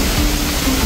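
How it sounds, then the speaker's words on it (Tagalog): The waterfall at Mother Falls gives a steady, dense roar of rushing water, loud and unbroken for the whole moment, with no voices. "Marinig ang dagundong ng talon"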